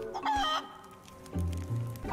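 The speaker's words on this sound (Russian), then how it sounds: "Курицы это самые странные создания в играх. Например, в чем вообще смысл куриц в КС?" Chickens in the Counter-Strike video game cluck and squawk in short, lively bursts, close and fairly loud, with a brief crowing call among the clucks and no talking.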